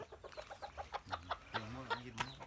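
Bantam chickens clucking in a rapid, rhythmic series of short calls, close and fairly loud, with a couple of longer, more tonal clucks partway through and no talking.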